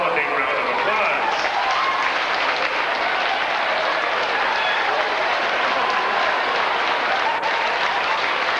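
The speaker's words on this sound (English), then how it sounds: "Give them all a big round of applause." Sustained, dense applause from a theatre audience at the close of a stage hypnotist show, steady and loud throughout with crowd noise mixed in.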